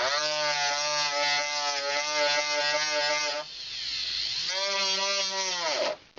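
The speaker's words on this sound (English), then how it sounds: "I'm using my high-speed steel burr, pre-selected." High-speed steel burr grinding a claw on a four-prong jewellery setting: a loud, steady high-pitched whine that dips in pitch under load around the middle, then recovers and cuts off near the end.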